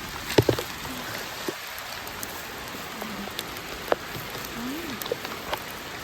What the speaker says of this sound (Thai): โอ้โห ฝนตกหนัก